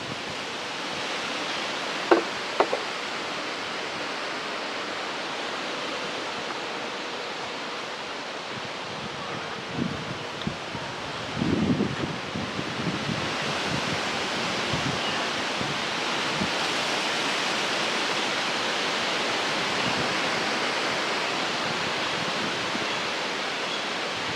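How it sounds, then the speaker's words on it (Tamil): Strong wind sweeps through the Vanni forest in a steady, broad roar that swells and eases slightly, with a few brief knocks and rustles near the start and in the middle. "சரியான காற்று"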